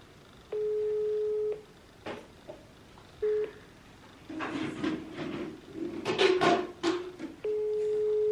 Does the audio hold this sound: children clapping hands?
no